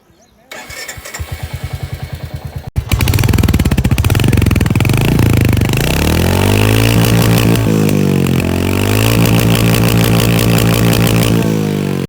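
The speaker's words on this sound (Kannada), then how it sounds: "ಈ ಗಾಡಿದ್ದು ಸೈಲೆನ್ಸರ್ ನೋಟ್ ಹೇಗಿದೆ ನೋಡೋಣ ಬನ್ನಿ." A budget 350cc-style motorcycle resembling a Royal Enfield starts up, then its silencer exhaust thumps at idle and rises through several revs, loud and close-miked, falling back between throttle blips.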